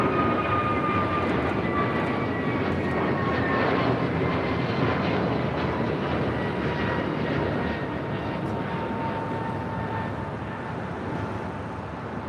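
A jet airliner takes off from runway 25 Right at LAX, its engine roar loud and steady across the whole stretch with a slowly shifting whine, easing off slightly toward the end, with no voices.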